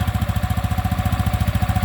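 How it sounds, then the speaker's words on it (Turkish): An Arora Leader 50i moped engine idles steadily with a rapid, even exhaust putter, loud and close, running alone without any voices. "Egzoz sesini dinleteyim."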